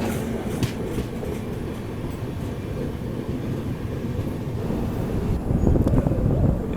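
Bihar Sampark Kranti Express, New Delhi to Darbhanga service, approaching on the track: a steady loud rumble and rattle of the passing train with wind buffeting, swelling louder near the end.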